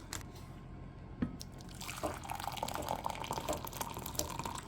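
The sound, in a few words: hot water poured onto freeze-dried tomato basil soup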